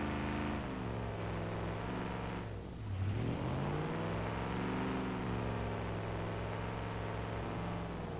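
A car engine in the BeamNG.Drive driving game revs steadily and loudly for the whole stretch, its pitch sweeping up and down with a brief dip near the middle, with no talking.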